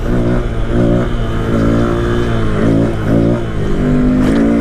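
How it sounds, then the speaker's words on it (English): Motorcycle engine revving up through the gears, several rising pitch sweeps each cut by a quick shift, loud and close, captured from the rider's position. "First gear, second."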